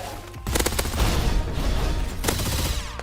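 Rapid bursts of pistol gunfire in a Roblox shooter, a fast, loud fusillade of overlapping shots that continues steadily from start to finish, with no talk over it.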